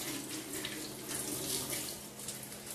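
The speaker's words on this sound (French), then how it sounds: "Voilà, je rince ma pierre." Water running over a grinding stone being rinsed, a steady splashing flow with bubbly spatter, moderately close and continuous, no speech.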